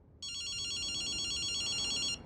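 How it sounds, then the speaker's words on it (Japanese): An old-style telephone bell rings in Ghostwire Tokyo, one steady bright electronic trill lasting about two seconds, loud and close over a low background hum. "電話だぜ。"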